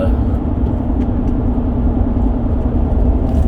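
Chevrolet Z71 pickup truck driving and turning onto a road, a steady mid-pitched engine rumble with road noise running loud and unbroken throughout.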